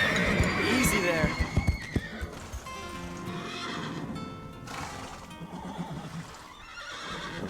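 Horses whinny and neigh repeatedly while hooves clop and stamp nearby, with a voice speaking briefly over the commotion.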